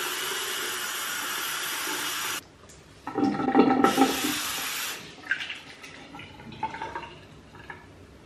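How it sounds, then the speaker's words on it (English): A bathroom sink tap runs as hair is wet beneath it, giving a steady rushing flow that cuts off, then returns as gurgling splashes and spatters against the basin and hair. "Once my hair is kind of as wet as I can get it really under the tap"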